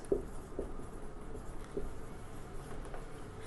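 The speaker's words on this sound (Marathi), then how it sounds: "सो मी डेफिनेशन लिहितो" Pen or chalk writing out a definition, faint scratchy strokes and light taps in irregular bursts over a quiet room hum, with no talk.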